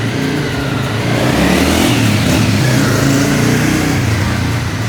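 A large motorbike engine revving loudly and steadily up close, with a continuous throaty mid-range roar and no pause across the whole stretch.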